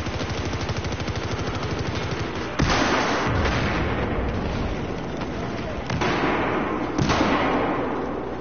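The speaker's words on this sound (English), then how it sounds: "Grenade." Explosions and gunfire in the Battlefield 4 video game: continuous rattling fire with sharp, loud blasts at about two and a half, six and seven seconds, including a grenade detonation.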